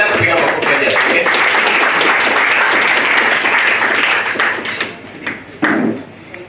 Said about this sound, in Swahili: Endelea kupiga makofi hadi afike